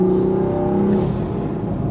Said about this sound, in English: car sounds so incredibly nice. Man, the downpipe and the exhaust really added to the pops that the car makes in sport mode